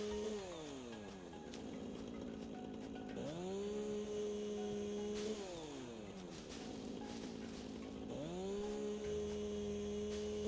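A chainsaw in the game Satisfactory cuts through trees, its motor repeatedly revving up and winding down in a cycle of rising and falling whines, fairly quiet and with no talk.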